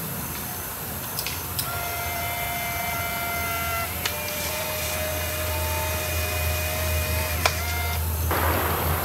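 An Instax Cheki instant camera pushes out a photo inside a coal mine's toilet building, giving a faint, steady mechanical whir with thin tonal hums and a few small clicks, ending in a brief louder rustle.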